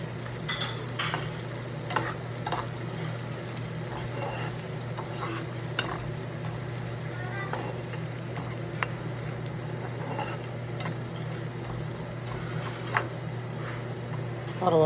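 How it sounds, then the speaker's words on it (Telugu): Whole garam masala spices fry in oil in a pan, giving a continuous soft sizzle with a steady low hum underneath, broken by occasional sharp taps of a spoon against the pan. "హోల్ గరం మసాలా చెప్పాను కదండి, అది వేసేసుకున్నాము. కొంచెం వేగనిద్దాము."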